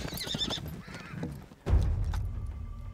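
Horses in Mongolia whinny in shrill, wavering calls, with hooves clip-clopping and bumping nearby; a heavy thud midway gives way to rumbling movement.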